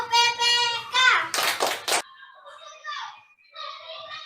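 Children in a classroom chant in unison and clap in sharp bursts, performing a rhythmic group clapping routine with voices alternating with hand claps.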